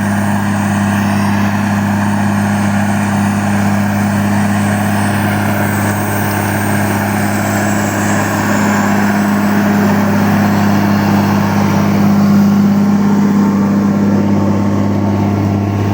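Tractor engine droning loud and close under load while pulling a six-body Veles Agro plough through a field, a steady heavy hum at around 2000 rpm that swells slightly toward the end.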